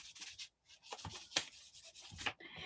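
An embossing buddy pad rubbed over paper in a few quick, scratchy strokes, close and fairly quiet, with short pauses between passes.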